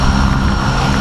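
Sightseeing aircraft fly over the Grand Canyon with a loud, steady engine and propeller drone that fills the clip without a break, and no voices are heard.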